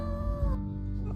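A mother cat gives a single drawn-out, tonal meow at close range, loud and steady before trailing off.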